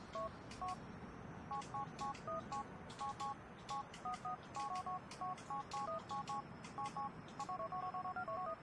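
Telephone keypad dialing in GTA IV, a rapid run of distinct dual-tone beeps in uneven bursts, clear and close over a quiet background hum, with no talking.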